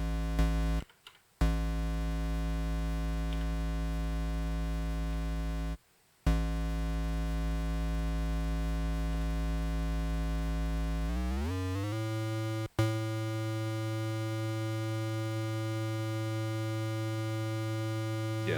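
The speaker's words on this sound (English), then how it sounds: "so that's quite a square wave" A sustained buzzy Kodamo Mask1 synthesizer tone rich in harmonics, holding steady, briefly cutting out twice, then sliding downward in pitch and settling on a lower, hollow square-wave note.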